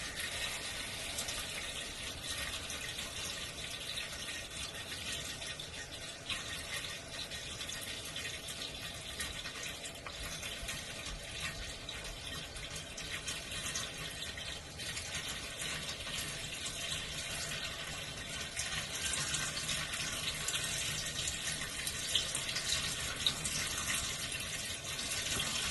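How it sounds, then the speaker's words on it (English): Water rushing steadily through an RV in-line water filter, a dense, unbroken hiss of flow that stays even throughout, close up with no voices over it. "See how fast water flows."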